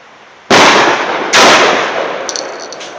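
A grandfather's shotgun is fired twice outdoors, a loud blast followed by a second one about a second later, both trailing off in a long, fading echo.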